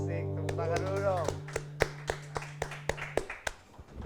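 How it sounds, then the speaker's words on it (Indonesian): An audience clapping hands in a steady rhythmic beat of about a dozen sharp claps, starting under a sustained voice or tone that soon drops away, leaving the claps alone. "tepuk tangan dulu dong"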